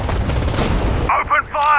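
Rapid bursts of gunfire ring out in the World War II strategy game Sudden Strike 4, set at the Mareth Line in 1943, then break into short ringing shots. A voice briefly overlaps the shots.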